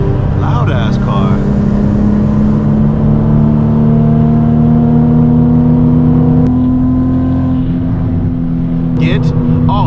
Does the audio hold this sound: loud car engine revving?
yes